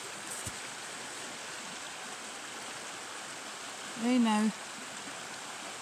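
Water flows steadily near a shore as a soft, constant wash of noise. A voice speaks briefly near the end.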